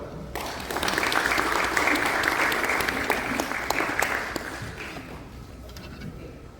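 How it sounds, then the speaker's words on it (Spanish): Sustained applause from an audience at an academic conference in Peru marking the 40th anniversary of the Peruvian Civil Code, with dense steady clapping after a brief start that continues for several seconds before tapering off. "Recibimos con un aplauso."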